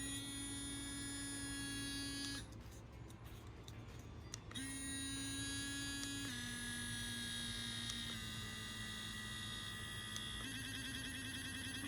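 A Fairywill electric sonic toothbrush gives a faint, steady high-pitched electric buzz that shifts pitch several times as modes change, with a short break in the middle.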